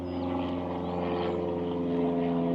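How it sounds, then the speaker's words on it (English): A small plane passes overhead near a local airport, a faint, steady propeller drone that swells slightly as it goes by, heard alone without talking. "It's like the 5th airplane that's flown over"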